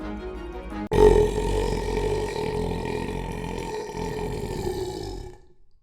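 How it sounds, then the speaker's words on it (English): A long, loud, drawn-out burp from a character in a Minecraft game starts abruptly after a short sound and rumbles on for several seconds before fading out. "Burp to come down."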